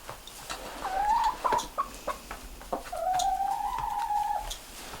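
Sex-Link laying hens make soft, drawn-out crooning and clucking calls close by, two longer warbling notes among light scratching and shuffling in an outdoor run.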